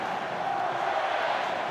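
A rugby league finals crowd in a packed stadium makes a dense, continuous roar that holds steady and loud throughout the brief moment.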